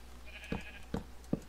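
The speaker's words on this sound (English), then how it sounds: "I hear sheep." Sheep in Minecraft bleat three times in an evenly spaced, short series, each bleat quiet and distinct over a low steady background, with no talk.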